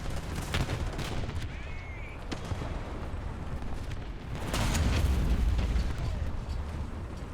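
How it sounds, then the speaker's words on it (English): Heavy booms from tank cannons roll through a tank battle video game, with a loud, broad blast swelling midway over a rumbling battlefield and some talking in the background. "Panzer 4 is firing at me though."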